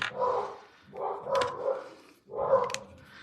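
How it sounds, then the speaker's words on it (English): Dogs bark in three separate bursts at a moderate distance, with gaps between each round of barking. "Oh my gosh, do you hear the dogs?"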